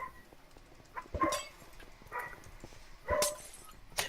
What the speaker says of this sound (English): now I've got some quality barking from my dog